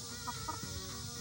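Soft, muffled clucking from chickens in a coop, a few short calls against a steady hiss of background noise, faint and somewhat distant.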